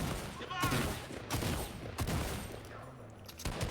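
AK rifle gunfire in a Fortnite battle royale tournament: a run of fast, punchy shots in bursts, loud and close, over a busy game soundscape.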